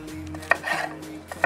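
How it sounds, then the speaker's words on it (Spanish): A knife chops a yellow bell pepper on a board beside an open wood fire, with a few sharp, close cuts spaced over a second and a half. "Ahora un pimiento amarillo, acá ya tenemos bien picado el rojo y vamos a arrancar con este."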